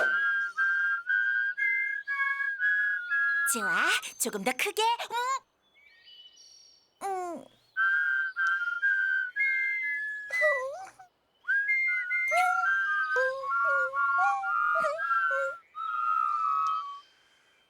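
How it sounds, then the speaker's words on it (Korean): A cartoon character whistles a series of clear, sustained melodic notes in phrases, broken by a rapid fluttering trill and a few gliding whistles; a voice speaks briefly in between. "이제 휘파람을 불 수 있다고"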